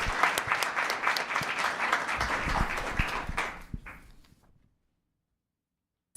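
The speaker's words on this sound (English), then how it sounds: "Round of applause." Attendees at a town council meeting clap steadily for about four seconds before the applause thins out and fades to silence.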